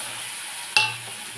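Spice paste made with a little water drops into a hot pan of cooked-down tomato for a Bengali chhana kofta curry, setting off one sudden loud sizzle over a quiet background hiss, followed by a short stirring scrape.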